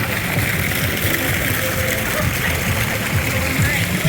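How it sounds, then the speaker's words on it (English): Water fountains spray and splash along a lazy river at Aquatica Orlando water park during an after-hours event, making a steady rushing wash of water that holds throughout with no pauses. "We've got some more fountains coming up here."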